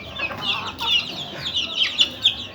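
Ornamental chickens cluck busily in a steady, overlapping chatter of short, close calls with no pauses.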